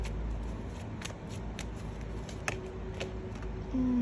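Tarot cards are shuffled and laid out close by, with soft rhythmic riffling and a string of crisp card snaps and slaps at fairly even intervals.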